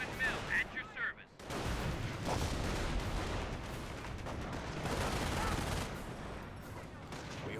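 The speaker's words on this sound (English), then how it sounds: "This seems a good time for a Calliope barrage" A Calliope rocket barrage erupts in Company of Heroes, a dense rolling roar of launches and explosions that kicks in abruptly after a brief quieter start and continues heavily to the end.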